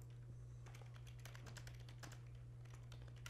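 Rapid clicking of keys on a computer keyboard, irregular bursts of typing over a steady low electrical hum, fairly faint and close, with no voices.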